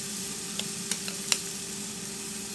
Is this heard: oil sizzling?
yes